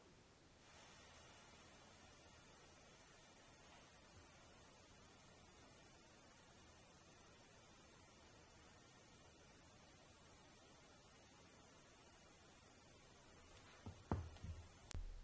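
A steady, piercing 11,111 Hz pure sine tone for a cymatics demonstration holds at constant loudness for about fourteen seconds, then cuts off abruptly as a brief low knock is heard near the end.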